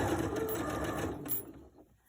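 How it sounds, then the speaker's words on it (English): A sewing machine runs steadily down a side seam joining two fabric pieces, a close, continuous stitching hum that slows and stops near the end. "I sew down the side in about a 3/8 inch"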